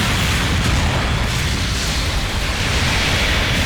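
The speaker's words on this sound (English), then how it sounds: "The mobile suit has been destroyed." A mobile suit blowing apart in Gundam Battle Operation 2, a dense, sustained explosive roar filling the whole stretch at steady loudness, with rumbling low debris and no voices.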